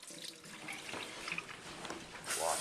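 A small tortoise water bowl is rinsed under a running kitchen tap, a steady close splash of water over the whole short moment, swelling louder at the end.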